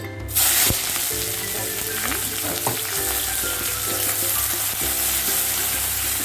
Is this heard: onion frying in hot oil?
yes